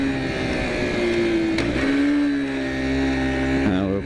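A 1997 Honda Chaly C50 small motorbike engine runs steadily while riding on the road, a close, continuous buzzing drone whose pitch dips and rises briefly with throttle changes.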